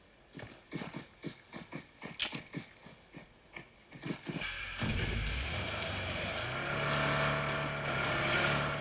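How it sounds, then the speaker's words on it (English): A vehicle drives off in PUBG, its engine rising into a steady rumbling drone after a run of rhythmic thumping footfall-like sounds. "So they're leaving in a vehicle which is smoking at the moment"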